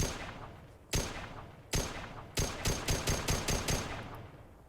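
Battle rifle firing in Arma 3 with a Mass Effect mod: two loud, widely spaced shots, then a quick run of about seven evenly paced shots, each with a short echoing tail.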